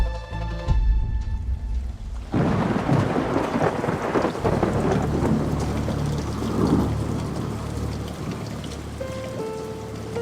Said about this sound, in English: But that night, it started raining.